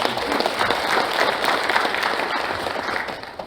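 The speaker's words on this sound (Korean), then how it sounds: "큰 박수로 격려해 주시기 바랍니다" Audience applause at the founding convention of a national association of bereaved families of the Yeosu-Suncheon October 19 uprising: dense, continuous clapping of moderate loudness for a few seconds.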